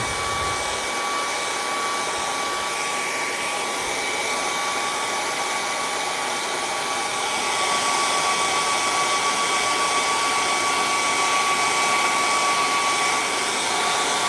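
Hair dryer blowing on a painting to dry the paint, a continuous loud whooshing hum with a steady tonal whine, running alone without pause throughout.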